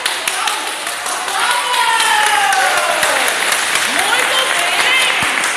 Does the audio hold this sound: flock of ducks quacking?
no